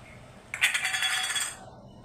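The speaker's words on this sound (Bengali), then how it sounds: "ভালো করে ধুয়ে একদম আমি এই যে কুকারের মধ্যে দিয়ে দিচ্ছি" Washed dal lentils tip into a metal pressure cooker for a mango dal, making a close, bright rattling patter that lasts about a second and then fades out, with no voices.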